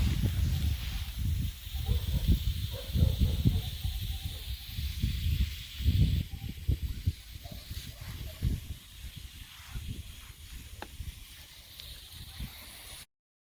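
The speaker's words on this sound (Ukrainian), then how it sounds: "Обходжу свої кущики з двох сторін і так ретельно гарно все оприскую." A pressure sprayer hisses steadily as it mists solution over blueberry bushes outdoors, the close, continuous spray broken by brief rustles and shifting bursts as the nozzle moves along the plants.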